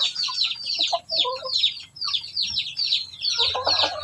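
Hens in a small backyard flock cluck and call in a quick, repeated run of short bright notes. A brief pause comes midway, then a busier burst of clucking near the end.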